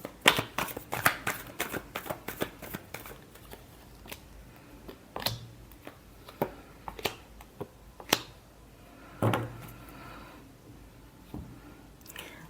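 Tarot cards being shuffled by hand in a rapid series of crisp riffling flicks and taps, quick bursts early on that thin out into sparser single snaps, close and fairly quiet with no talking.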